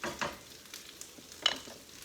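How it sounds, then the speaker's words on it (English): Quiet frying sizzle of pork with scattered scraping and stirring strokes in a pan, close up, with no talking. "Do you hear that sizzling?"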